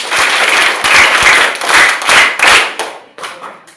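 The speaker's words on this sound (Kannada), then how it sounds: "ಒಂದ್ಸಾರಿ ಜೋರಾಗಿ ಚಪ್ಪಾಳೆ ಹಾಕಿ" Children clap loudly after a classroom word-building activity. The dense, sustained clapping lasts about three seconds before trailing off.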